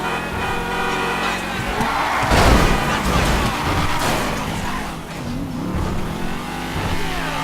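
Continuous car engine roar and tire noise in GTA 5, swelling into a loud chaotic crash around the middle, with dense rumbling game sound throughout.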